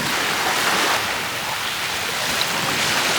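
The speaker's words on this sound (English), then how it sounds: "I think the tide is just taking back the shingle, and the shingle and the sea glass is just being taken back now." Surf on a shingle beach scattered with sea glass, the tide dragging stones back in a steady broadband wash with wind noise, continuous and fairly loud throughout.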